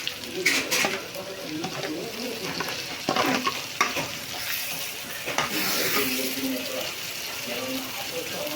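Ginger-garlic paste and ground masala frying and being stirred in a pan: a continuous loud sizzle with scraping stir strokes, and a voice speaking faintly underneath.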